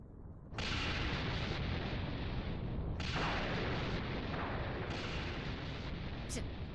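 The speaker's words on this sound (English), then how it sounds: "You were afraid of being caught in the explosion." Explosions in the video game Dragon Ball Xenoverse 2 hit as three sudden, loud, roaring blasts, each followed by a sustained rumble, with brief gaps between them.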